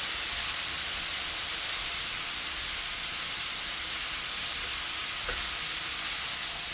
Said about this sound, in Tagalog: Okay, haluin natin ngayon. Bango na oh.